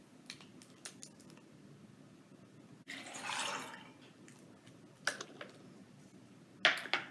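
Water is poured into a measuring cup in a short, soft splash lasting under a second, followed by a few small clicks and taps in a quiet kitchen.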